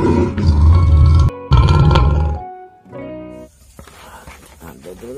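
A person's voice imitates a lion's roar for a toy lion, with loud, throaty, growling bursts broken by a brief pause. The sound then fades into quieter, breathier rumbles.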